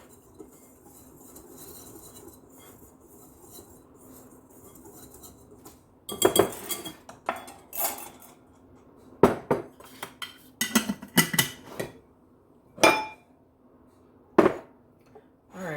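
After a quiet stretch, a utensil clinks and scrapes against a bowl in quick, irregular bursts while pumpkin bread ingredients with pumpkin pie spice are mixed together, close and fairly loud.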